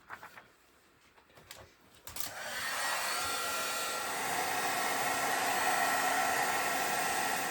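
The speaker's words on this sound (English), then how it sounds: "I'm going to make sure that my heat gun is nice and hot" A craft heat gun blasts hot air to melt embossing powder on a stamped card, a steady loud broadband whoosh that cuts in after a couple of seconds of quiet handling clicks and then holds constant to the end.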